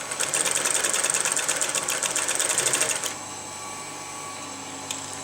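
Sewing machine stitching a thong, a fast rattling run of needle strokes for about three seconds, then stopping abruptly and leaving a low hum.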